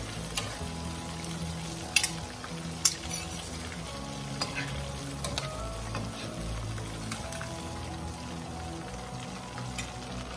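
Shrimp deep frying in hot oil for honey walnut shrimp, a steady close crackling sizzle that runs the whole time, with a couple of sharp clinks or pops near the start and no talking.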